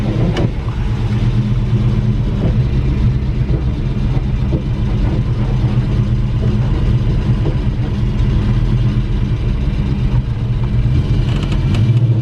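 Steady, close idle of a warm carbureted car engine, a smooth continuous rumble with no talk, holding even throughout.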